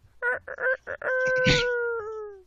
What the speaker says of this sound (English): You know, good old rooster, all that stuff.